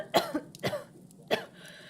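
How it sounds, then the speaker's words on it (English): A woman coughs three times in short, harsh bursts within an audio drama scene, each cough separated by a brief pause, close and fairly loud with no talking. "Rhiannon stared at them and coughed."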